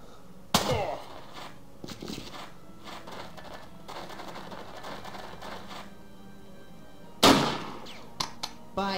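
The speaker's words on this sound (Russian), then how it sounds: "Эти дымовые выстрелы." In the tactical game Jagged Alliance 2, two sharp smoke grenade shots ring out several seconds apart, each a loud snapping report. Quieter clicks and thuds fill the gaps between them.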